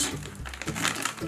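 Wrapping paper being folded and pressed down around a box, giving a brief close crinkling and crumpling rustle lasting about a second.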